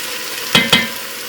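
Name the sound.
hamburger meat browning in oil in a pan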